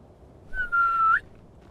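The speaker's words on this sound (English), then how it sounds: "Let's whistle." A single short, clear whistle held on one steady pitch that rises sharply at the end, given in Skyrim to call a horse, loud and close against a quiet background.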